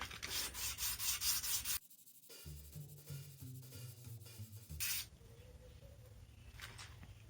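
A knife sharpening stone is rubbed flat against abrasive, giving a close, rhythmic gritty rasp in quick repeated strokes, then pausing, with quieter scraping and a second burst of sanding later on; no talking.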